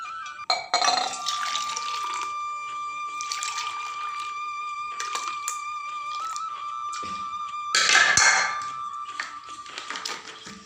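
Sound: cold water being mixed into hot water

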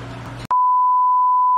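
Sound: alarm beep from aquarium equipment

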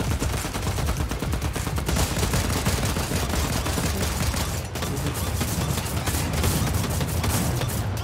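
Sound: drum shotgun gunfire in a video game

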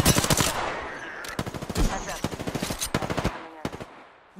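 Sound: gunfire in the video game Apex Legends

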